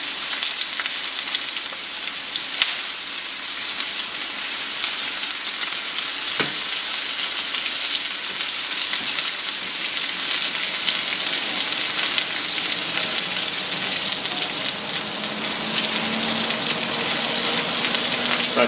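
Pork and onion fry in a pan with a dense, continuous crackling sizzle that holds steady throughout, broken only by a couple of soft utensil knocks.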